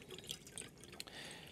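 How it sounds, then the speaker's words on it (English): Water drains from the heat exchanger boiler of an espresso machine, heard as faint irregular drips and trickles over about a second and a half, with no talk. "with the water's now flowing, and this will pull all the water out of the boiler."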